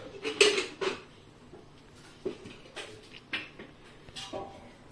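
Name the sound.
setting another kadai pan on the stove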